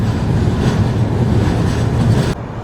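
Interior rumble of a general coach on the Bengaluru to Visakhapatnam special train, a loud, steady low roar of wheels and wind that runs continuously before dropping abruptly near the end.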